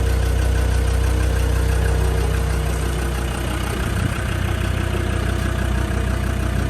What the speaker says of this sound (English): you can hear the sound of the turbo inside massively